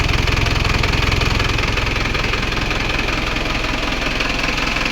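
An Isuzu Sportivo engine idling after a fuel pump change, a loud steady rumble with a fast ticking knock running continuously throughout, close up with no talk.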